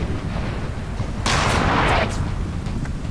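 Cannon fire from an Empire Total War battle booms in a short broadband burst lasting under a second, standing out over a steady low background rumble of battlefield noise.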